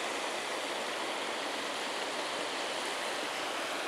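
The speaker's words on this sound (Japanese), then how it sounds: "あそこにミニ滝がある。" A small hot-spring waterfall pours into a river, giving a steady, dense rush of falling water that stays constant and fairly close with no voices.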